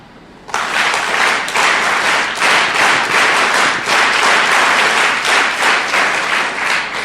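School cadets in grades 7 to 12 at a military school clap together in loud, dense, sustained applause that starts abruptly and continues evenly with a slight rhythmic pulse, close and full.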